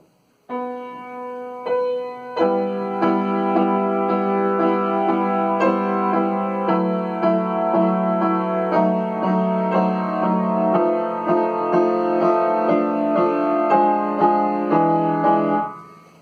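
Solo piano plays a slow Chopin prelude where heavy, loud accompaniment chords swamp the melody, sustained and dense throughout.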